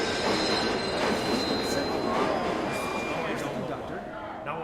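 A train makes an emergency stop with loud, steady rumbling and high wheel squeal throughout. A voice speaks over the noise.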